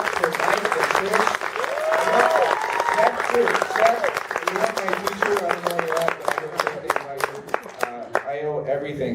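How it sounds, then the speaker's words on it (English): Applause at an open mic night for performers Mike and Trish, close and lively clapping mixed with cheering and voices talking over it, carrying on for several seconds and slowly becoming more scattered. "A big round of applause for Mike and Trish."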